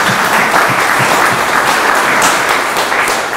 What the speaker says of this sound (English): give everybody here a little bit of round of applause